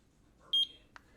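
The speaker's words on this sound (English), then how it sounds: "You heard the beep" A water leak sensor activating: a short, clear electronic beep, a double-pulsed high tone, followed by a faint click, in an otherwise quiet room.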